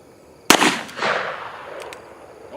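A rifle firing full metal jacket rounds at a pumpkin: one loud, sharp shot with a ringing outdoor echo, then a softer second report, with no talking.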